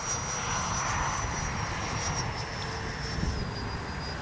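A Freewing 90mm Zeus RC jet flies overhead. Its ducted-fan engine gives a steady, loud whine with a high tone that shifts slightly as it passes, and nobody speaks.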